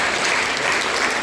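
Church congregation applauding during a Sunday worship service to welcome guests, dense steady clapping from many hands filling the room, brief and even with no speech.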